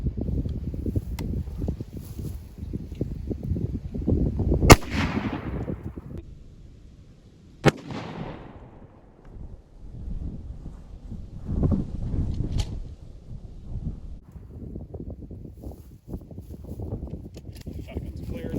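A 12 gauge shotgun fires buckshot at about 3.5 yards: one sharp, loud blast stands out over ongoing background noise, with a second sharp report a few seconds later, and no voices in between.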